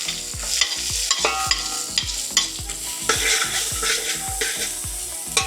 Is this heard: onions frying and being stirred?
yes